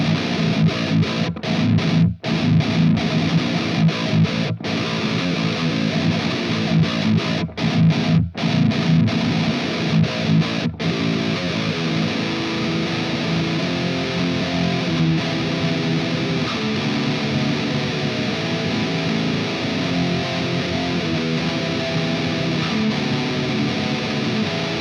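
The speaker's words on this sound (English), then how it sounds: "It captures the grit, aggression, and dirty tones of the EVH 5150 Iconic Series amplifier" An electric guitar runs through the Amped Icon amp sim modeled on the EVH 5150 Iconic Series amplifier, delivering a steady wall of gritty, aggressive high-gain distortion riffing with brief choppy stops early on.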